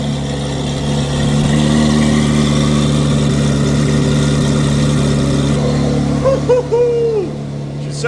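A modified C8 Corvette Z06 idles loudly with its exhaust valves open, a deep steady rumble with a slight rise in intensity, close by and continuous, with no voices over it.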